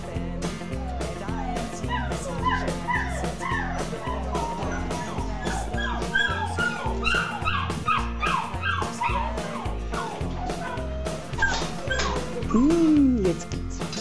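Several dogs whimper, yip and bark excitedly in a busy, overlapping chorus at morning feeding, with a louder whine near the end.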